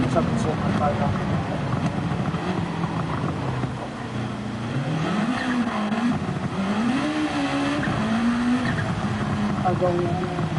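Honda NSX Concept GT '16 race car in Gran Turismo 7 on the Nürburgring GP circuit, its engine droning loudly and continuously, pitch rising and falling through gear changes and braking.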